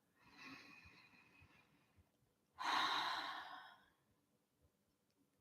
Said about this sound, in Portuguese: vocês vão dar 3 respirações bem profundas. Respirando com o ar bem grandão assim na barriga e soltando pela boca